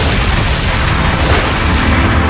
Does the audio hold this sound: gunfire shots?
yes